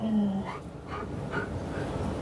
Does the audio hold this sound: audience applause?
no